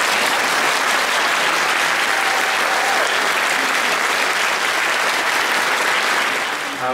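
Audience at a Liberal Judaism celebration day applauding newly appointed prayer leaders: dense, loud, steady clapping from a large crowd, sustained without pause for about seven seconds before starting to thin.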